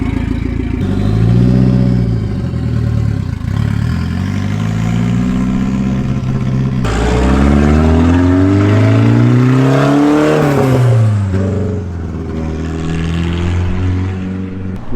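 A Nissan S13 with an SR20DET turbo engine runs loud and close from outside the car, its exhaust note rising and falling through repeated revs, with a sharp jump in intensity midway and a clattering edge.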